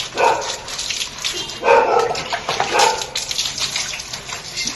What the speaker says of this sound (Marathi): आता आपण त्याला साध्या पाण्याने आंघोळ घालतो आहोत